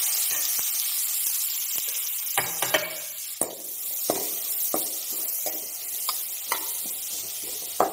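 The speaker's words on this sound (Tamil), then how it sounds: "கொஞ்சமாக எண்ணெய் ஊற்றிட்டு கொஞ்சோண்டு சோம்பு தாளிக்கிறதுக்கு போட்டுட்டு அப்புறம் வந்து பார்த்தீங்கன்னா நம்ம பச்சை மிளகா தக்காளி வெங்காயம்" Onion, green chili and tomato fry in a little oil with fennel seeds, giving a steady close sizzle and hiss, broken by occasional sharp pops and spatters.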